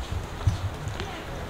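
Horses' hooves clip-clop on the floor of the stables at a horse show, several soft uneven knocks heard close by amid a low background murmur.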